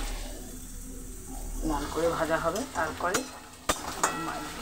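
Marinated chicken is fried in a little oil in a pan, sizzling and hissing with stirring scrapes, while someone talks over the cooking for most of the stretch.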